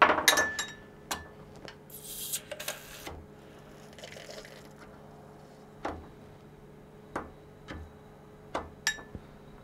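Beer runs out of a LAST STRAW counter-pressure bottling wand, giving a brief hissing gush near the start, followed by sparse sharp glass clinks and ticks over a quiet background.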